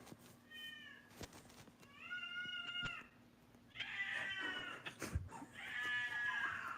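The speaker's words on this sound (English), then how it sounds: "Cat kindly requests to be let in" A cat outside asking to be let in gives a series of drawn-out, wavering meows, several separate calls with pauses between, faint and a little distant over background hiss.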